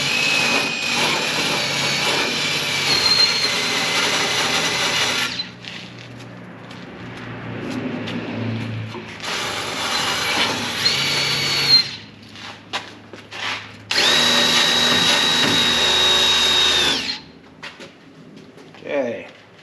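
A wire wheel on a power tool scours dirty metal on an Oldsmobile to expose the spot welds, making loud grinding bursts separated by pauses with quieter handling sounds and faint coos.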